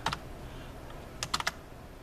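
Keystrokes on a computer keyboard while writing code strings: two quick clicks near the start, then a short burst of three or four taps after a pause, fairly close and light over a quiet hum.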